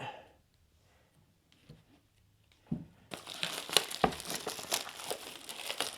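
Shiny protective plastic film is peeled off a LETWESAF radar motion alarm, starting with faint rustles and then turning into a close, loud, continuous crinkling and crackling.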